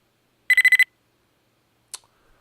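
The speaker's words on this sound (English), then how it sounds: "Enemy spider. This is the alert sound when it wakes up." A robotic enemy spider in a video game wakes with an alert: a quick run of five bright, evenly pulsed electronic beeps, followed a second later by one short, fainter chirp, all alone against silence.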